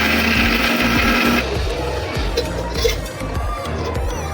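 An electric kitchen mixer grinds ginger, garlic, cashews and sesame into a paste, whirring loudly and continuously with a steady motor drone and rattling jar, its pitch shifting partway through.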